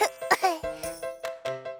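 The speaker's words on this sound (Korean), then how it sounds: "기침이 계속 나요" A few short, harsh coughs in quick succession, close up, over a steady musical tone in the background.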